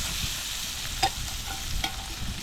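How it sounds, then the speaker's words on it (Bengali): Small fish fry crisply in a pan at an island fishing camp, giving a constant crackling sizzle close up. A few sharp stirring knocks and scrapes break through the hiss, with no voices. "এগুলো করকর করে ভাজা লাগবে"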